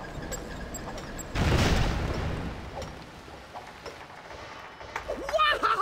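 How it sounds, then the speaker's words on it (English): A single loud blast in the LEGO City Undercover video game, set in a mine, bursting out suddenly after a quiet stretch and tailing off, with game voices and effects around it. "That explosion was awesome!"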